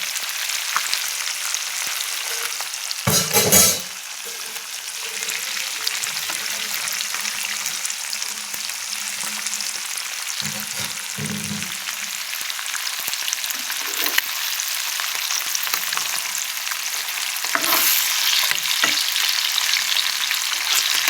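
A big batch of fresh Koshi river fish fries in a pan at a dhaba-style kitchen, a continuous loud sizzle broken by a few clattering stirs and scrapes, with no voices.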